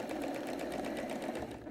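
A sewing machine doing free motion quilting along the seam lines of a small orange border runs at a fast, steady pace, its needle chattering in a close, continuous rhythm throughout.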